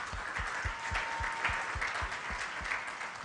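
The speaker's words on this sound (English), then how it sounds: "I think the panel deserves a clap" Audience applause for a panel at an East and Southern Africa ICT policy conference: dense, steady clapping from a full room that holds at even loudness throughout, with no voices over it.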